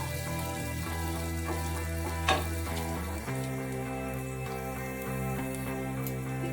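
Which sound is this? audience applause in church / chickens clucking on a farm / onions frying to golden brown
onions frying to golden brown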